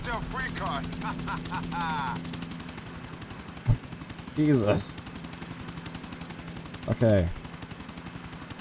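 Helicopter rotor in the video game GTA 4: The Ballad of Gay Tony, a steady rhythmic chop running throughout beneath bursts of game gunfire and short spoken exclamations.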